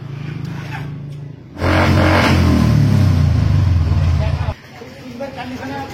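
A Royal Enfield Bullet motorcycle in a second-hand bike showroom idles, then its engine is revved hard for about three seconds and settles back to idle, loud and close.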